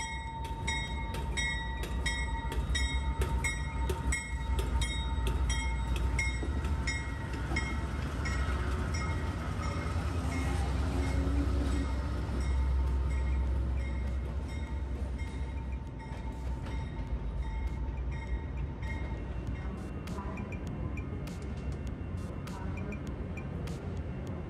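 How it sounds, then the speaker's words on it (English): A locomotive uncouples and pulls away from a passenger train, rumbling and rolling away steadily, with low engine drone, metallic squeals and clanks, continuous and fairly loud throughout. "Brake lines now disconnected, Locomotive 10 pulls away from the Carolinian"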